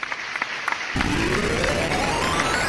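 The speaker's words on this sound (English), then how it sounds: "Let me give you an applause." Applause sound effect dropped in during a live YouTube Q&A stream, a steady dense wash of clapping that starts abruptly and holds loud and even to the end, with a rising synthetic tone running underneath.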